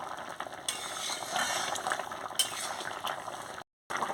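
Spinach, taro and prawn curry being stirred in a pot: bubbling, wet simmering with scraping and clinking from the spoon, continuous and close, with a brief gap of silence near the end.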